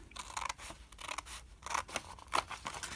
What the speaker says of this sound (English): I'm just going to cut this one off here. I'm going to try to cut inside the line so I don't have the line there.